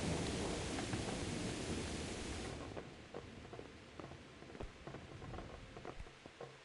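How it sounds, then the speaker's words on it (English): Thunderstorm in the video game Kingdom Come: Deliverance: a loud, dense wash of rain and rolling thunder that thins after a few seconds into steady rain with scattered patters and distant rumbles. "Hear the storm coming in though."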